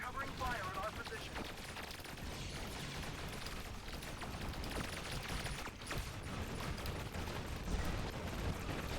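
Dense, continuous video game gunfire, a steady barrage of shots and explosions filling the scene at constant loudness, with a voice faintly present beneath the racket.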